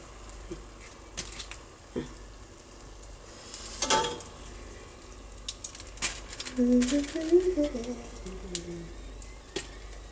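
Pork crackling frying in overheated oil on a gas stove, a soft sizzle with scattered pops and crackles that grows busier toward the end, mostly alone with a few faint knocks.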